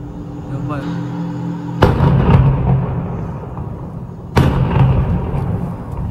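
Tank fire and explosions in war-torn Mariupol: two sharp, loud booming blasts with rumbling tails, about 2.5 seconds apart, over a steady low background rumble.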